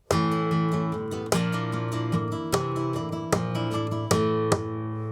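Flamenco guitar plays a classic Bulerías compás phrase: sharp strummed chords struck in an accented rhythmic pattern, with a few louder rasgueado hits cutting through ringing, sustained notes, heard alone and close.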